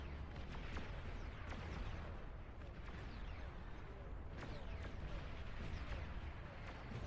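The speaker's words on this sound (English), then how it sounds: "What are these massive explosions?" Distant booms burst repeatedly over a constant low rumble, like heavy explosions going off in a battle in the strategy video game Beyond All Reason.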